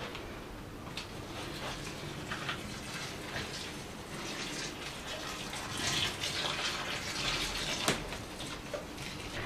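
A steady stream of water pours and splashes close by into a houseplant's pot, with a few brief louder gushes, and no voices.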